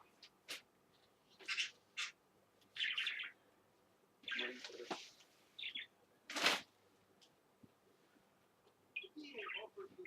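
A small pet bird chirps and tweets in short bursts, with a wing-flapping flurry near the middle; the calls are close and fairly faint, and a person speaks softly between them.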